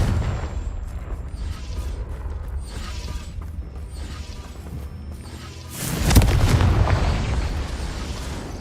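A Confringo fire spell detonates in the video game Hogwarts Legacy, a sudden loud booming burst after several seconds of low rumbling mechanical game ambience, with the blast's roar carrying on for a couple of seconds.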